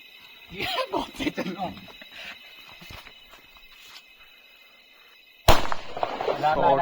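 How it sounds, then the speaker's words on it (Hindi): Firecrackers pop and crackle in a rapid burst amid a busy outdoor crowd at a Ravan Dahan celebration in a village, with people talking throughout and a louder blast near the end. "ये देखो ये पटाखे जला रहे हैं यहाँ पे, देखो"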